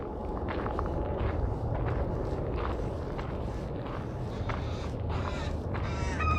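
Crows and gulls squabble and call over a dense, steady urban hum, with short harsh caws and cries breaking through at intervals, and faint footsteps nearby.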